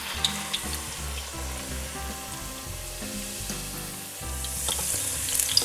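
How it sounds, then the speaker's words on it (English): Pat-dried potatoes for chips bubble and sizzle in deep fryer oil at 365 degrees, a close continuous crackling hiss with soft music underneath and no talking. "it's time to throw our pat dried potatoes into the fryer"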